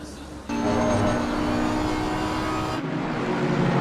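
GT3 race cars circle a track in a racing sim game, engine drone rising abruptly to a steady loud roar that continues without a break.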